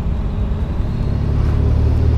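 A Pro Touring Chevrolet Corvette with coilovers and upgraded control arms is driven through corners, a steady, loud engine and road rumble from inside the car without a break.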